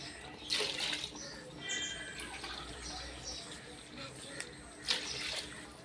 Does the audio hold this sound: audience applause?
no